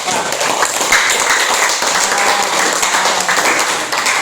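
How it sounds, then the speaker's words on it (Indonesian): Applause from a classroom audience for a student group that has just finished a biology presentation, steady dense clapping from many hands lasting several seconds, close and fairly loud. "kita beri aplaus dulu untuk kelompok 4"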